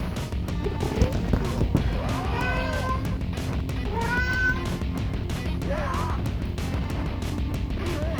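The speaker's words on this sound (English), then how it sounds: "It's not a cat in the game, that's my cat." A house cat meows several times in the background, drawn-out rising cries scattered across the stretch, heard under a voice talking and retro beat-'em-up game sounds.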